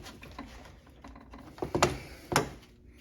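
A ratchet and socket snug down bolts on a Mercedes M272 thermostat housing, making quiet clicking and a couple of sharper metallic clacks near the mic, with no talk.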